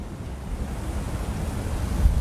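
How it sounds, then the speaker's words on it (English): Steady water rushing over rocks at a lake, with a broad, wind-like roar, continuous and fairly loud, with a low rumble swelling slightly near the end. "The unearthly sound of water rushing over rock."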